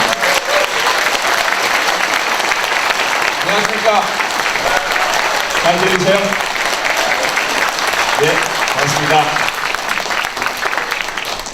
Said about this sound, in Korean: 큰 박수로 청해주십니다.